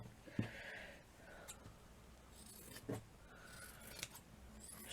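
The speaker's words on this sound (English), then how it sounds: "So I'm just going to cut a piece off." Scissors snip through a piece of fabric in several quiet, separate cuts spread unevenly across a few seconds, each a short crisp slicing sound close by.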